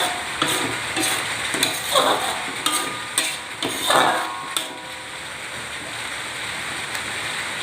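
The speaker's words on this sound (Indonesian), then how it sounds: "Kemudian kita aduk sampai dicampur rata." Squid being stirred in a hot pan for a spicy woku dish, with continuous sizzling and frying hiss and several scraping, clattering stirs of the utensil against the pan, close and moderately loud, with no talking.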